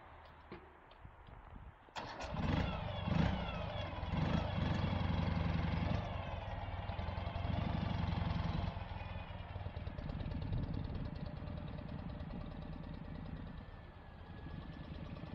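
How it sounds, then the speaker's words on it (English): A 2013 Ural Gear Up motorcycle in Coalition Gray is started at a dealership: a starter crank catches into a loud engine roar, which then settles into a steady, throbbing idle. "we'll start up this bike"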